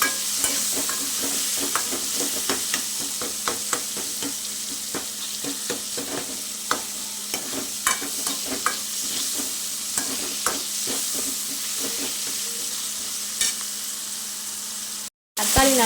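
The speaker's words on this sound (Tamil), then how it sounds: "தக்காளி வதங்குறதுக்காக கொஞ்சம் தேவையான அளவு உப்பு போட்டு வதக்குறோம்" Tomatoes sauté with salt in a pan, a constant sizzle overlaid by rhythmic scraping and clacking of a spatula stirring the mix, with a brief dropout near the end.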